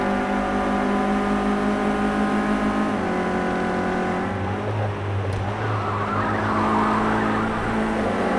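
Renault Clio racing at Brands Hatch Indy in Project Cars 2, engine droning loud and steady at high revs while the tyres squeal in a long sideways slide through a corner, with a shift in pitch midway.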